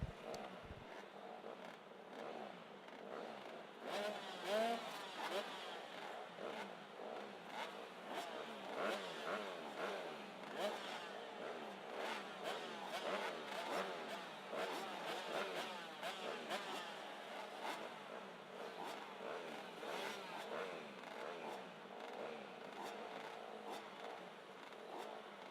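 Several 85cc motorcycles rev and buzz together at the start line of a main-event bike race, a dense, steady high-pitched engine drone that continues loudly for the whole stretch.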